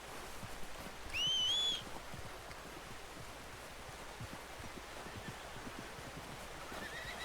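A horse in the video game Red Dead Redemption 2 gives one clear, rising whinny over a steady outdoor wash of running water and ambient noise.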